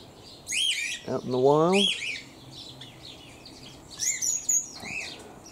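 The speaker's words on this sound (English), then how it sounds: "That other chirping is sparrows in the background." Sparrows chirp in the background of an aviary among palms and bamboo, bright high tweets scattered through the clip, while someone speaks briefly over them.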